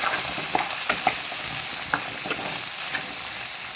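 Onion pieces and drumstick pieces frying in a pan for a tomato curry, a close, constant sizzle with scattered small pops and stirring clicks, no talking.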